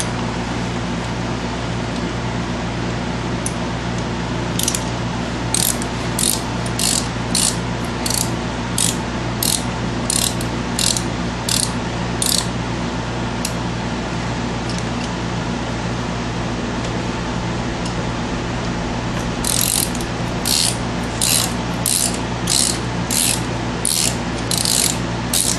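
A ratchet clicks in repeated short runs, pausing between them, while loosening front brake bolts on a 2002 Chrysler Town and Country, over a steady low hum of background noise.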